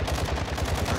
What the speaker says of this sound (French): Il y a une autre team qui me tire dessus